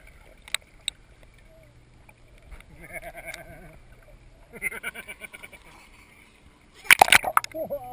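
A child swims toward a pool ladder, splashing water with short bursts and a louder flurry of splashes near the end, while nearby voices talk and cheer.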